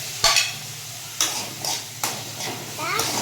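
Tomato and tamarind sauté in a pan for pirandai chutney, with close, sharp spoon scrapes in irregular bursts over a soft background sizzle.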